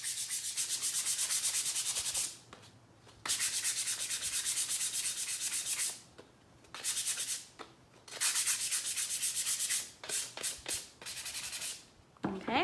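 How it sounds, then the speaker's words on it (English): Fine grit sandpaper rubs lightly over a painted wooden slotted pumpkin in close, repeated strokes. The raspy sanding runs in sustained passes broken by short pauses, with no talking. "So again, this is fine grit sandpaper."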